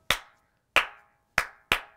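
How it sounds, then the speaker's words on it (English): Four sharp hand claps in a nursery rhyme singalong, close and crisp, spaced unevenly with the last two quicker, each ringing briefly before silence. "Four claps."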